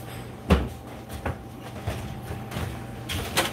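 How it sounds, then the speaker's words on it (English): A door bangs shut once with a solid near thud, followed by a few softer knocks and light handling noises in a quiet room. "close the door, please?"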